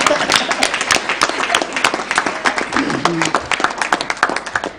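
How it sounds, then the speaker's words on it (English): Audience clapping at a Kenyan moot court competition, a lively mix of many hands with sharp individual claps near the front, steady throughout, with a voice briefly heard amid it. "Let's clap for him."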